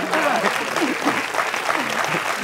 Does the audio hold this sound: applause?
yes